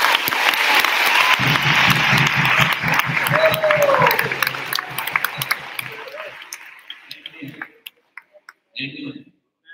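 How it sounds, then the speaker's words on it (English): School congregation clapping loudly and steadily at a Catholic high school gathering, the applause fading out over several seconds into scattered claps, with a few voices near the end. "You're trying to clap again, so go on and do it."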